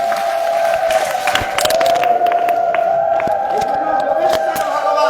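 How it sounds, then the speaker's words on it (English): A crowd at a Hari-katha gathering in Vrindavana, India claps and cheers steadily, with scattered whoops rising over the applause throughout. "please clap for it"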